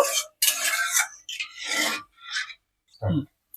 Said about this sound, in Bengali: এবার এটা একটু নাড়িয়ে দিচ্ছি